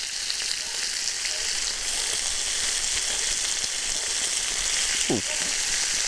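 Pork ribs fry in a pan over high heat, giving a steady loud sizzle throughout with a brief scrape of stirring near the end; no voices.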